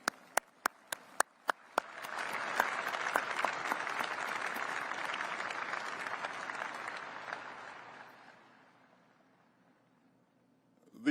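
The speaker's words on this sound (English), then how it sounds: "let's give them a round of applause" An audience at the B-21 Raider bomber unveiling ceremony breaks into applause, starting with a few sharp isolated claps before swelling into a sustained round that fades out after several seconds, moderately distant.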